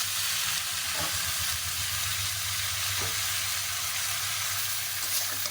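Potatoes, green chillies and papaya greens fry in a pan, giving a continuous, fairly close sizzling hiss with a few soft stirring scrapes and no talking.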